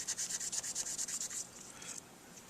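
Quick rhythmic rubbing strokes with 4.0 steel wool on a metal saxophone mouthpiece, a dozen or so rapid scratchy passes, then a few slower strokes, close and fairly quiet.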